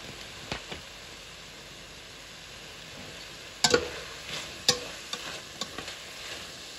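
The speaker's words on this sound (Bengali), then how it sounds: "ক্যানের বোতলে যে ছোলাগুলা পাওয়া যায় সিদ্ধ করা থাকে ওই ছোলাগুলো আমি ভাজি করছি" Boiled canned chickpeas fry in a pan with a low, steady sizzle, broken by a few sharp scraping stirs and ticks, close by and without talk.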